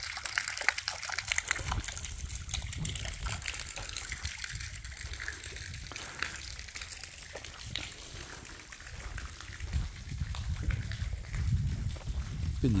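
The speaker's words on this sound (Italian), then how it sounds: "Vediamo sta fontana che probabilmente poteva fare anche da abbeveratoio." Water gushes steadily from an old stone fountain that may also have served as a livestock trough at the castle of Montecalvello, a continuous broadband rush with a few louder surges near the end.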